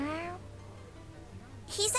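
Cat in the video game Tales of Xillia 2 gives a short meow at the start and another at the end, with soft game background sound in between.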